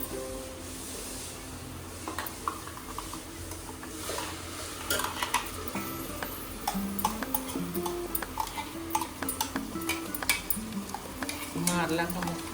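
Ground masala paste stirred into cooked onions in a pan while frying for an Agri Koli crab dish, with scraping spoon strokes, clinks against the pan and a light sizzle, alongside some background talk.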